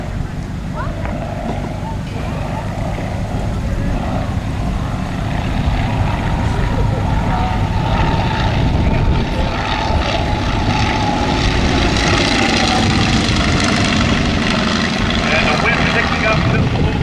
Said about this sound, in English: The Black Baron of Rhinebeck will give you one more photo flyby. Coming from your left, diving on down.